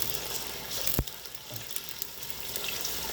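Food sizzling and frying in a pan while being stirred, a steady hiss with a single sharp clack of a utensil against the pan, close and moderately quiet.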